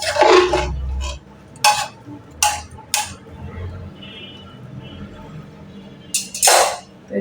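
Spoon scraping and clinking against a bowl while a beef tikia mixture is worked together by hand, a few sharp clinks spaced out over low background noise, with no talking.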